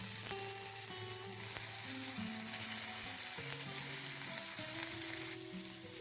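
Boiled, diced potatoes frying in oil and melted sugar in a wok for a raw banana kofta curry, a strong continuous sizzle with occasional stirring scrapes, close and steady for several seconds.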